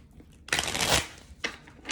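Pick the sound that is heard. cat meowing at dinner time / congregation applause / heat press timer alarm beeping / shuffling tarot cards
shuffling tarot cards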